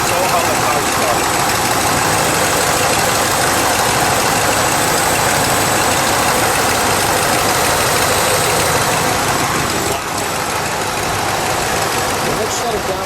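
A 1979 Lincoln Continental Mark V Bill Blass Designer edition idles steadily, loud and close, with a constant broadband rumble that barely changes throughout.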